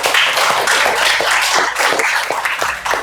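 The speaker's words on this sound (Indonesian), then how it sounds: "Kita berikan aplaus untuk diri kita sendiri" Audience of lecturers and trainees applauding themselves at a polytechnic teaching session, a dense, lively burst of many hands clapping close by, steady for a few seconds with no speech.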